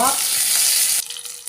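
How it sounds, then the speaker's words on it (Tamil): Curry leaves and green chillies sautéing in hot oil in a pan, a loud dense sizzle that holds steady for about a second, then drops off quickly to a quieter crackle with a few small pops. "கருவேப்பிலையும் பச்சை மிளகாயும் போட்டோம் இதெல்லாம் நல்லா வதக்கிக்கலாம்"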